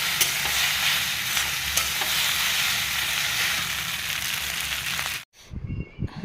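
Pasta stir-fried with egg and Maggi masala gives off a loud, steady, close sizzle with stirring, which cuts off abruptly near the end.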